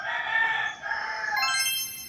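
An Ilonggo rooster from Bacolod crows loudly and close by, one long drawn-out call stretching across the whole moment, with no speech over it.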